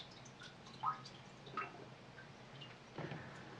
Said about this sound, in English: then rinsed with DI water